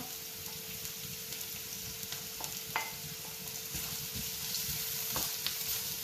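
Garlic and ginger frying in a pan, a steady hiss of sizzling oil with occasional soft stirring taps and crackles, fairly close and unaccompanied by speech.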